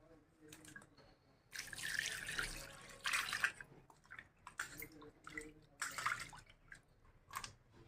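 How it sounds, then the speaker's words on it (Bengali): Raw lote fish washed by hand under running water, with bursts of splashing and tap flow rising and falling, close but fairly soft, among small drips and wet handling sounds. "এই মাছগুলো আমি এবার ভালো করে ধুয়ে নেবো তিন চারবার"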